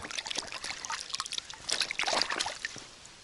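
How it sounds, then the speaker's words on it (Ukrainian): Waterproof Dexshell Drylite 2.0 glove dipped into water and sloshed about, giving close, splashy trickles and drips in quick irregular bursts with no talk. "Занурюємо нашу рукавичку у воду, дивіться."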